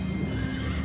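A horse neighs and whinnies close by, a steady loud sound with hoof clip-clop underneath, set in an ancient battle scene of cavalry crossing a river to attack a Roman camp.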